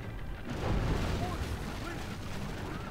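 In the Rome: Total War video game, siege weapons fire at an enemy tower, making dense, rumbling booms and crashes under a continuous battle din, with a voice talking over it.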